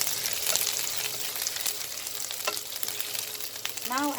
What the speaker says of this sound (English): Saute it for a second